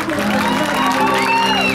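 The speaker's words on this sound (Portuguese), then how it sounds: "uma salva de palmas pra Rita." An audience at a 15th birthday party claps and cheers for a short, loud stretch, with whoops and a voice rising over the applause.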